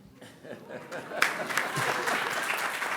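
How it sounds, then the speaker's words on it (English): Applause from an audience at an international forum session: quiet murmuring and scattered claps at first, then a fuller burst of clapping that swells and holds to the end. "It's a quick applause."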